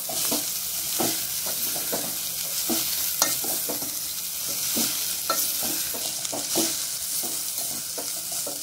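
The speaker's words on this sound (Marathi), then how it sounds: "आता भाजी चांगली मिक्स करून घेऊया आपण." Vegetables are stirred through hot tempering in a pan, with rhythmic scraping strokes of a spoon repeating about once a second over a constant sizzle.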